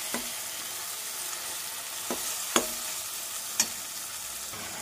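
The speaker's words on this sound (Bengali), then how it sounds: "এবার এটা হালকা হালকা নাড়াচাড়া করতে করতে আমি টমেটোটাও এর মধ্যে দেব" Eggplant and tomato fry in a pan while being stirred, a steady close sizzle broken by a few scraping strokes of a spoon against the pan.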